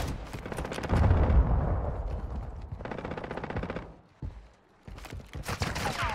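Gunfire in Warzone 2, heard as rapid automatic bursts, loud and close, that break off briefly and then resume toward the end.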